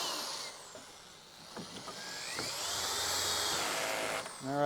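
A power drill drives screws into a wooden Smart Stacks compost bin, a steady near whir that rises and holds with a few short mechanical clicks and knocks along the way.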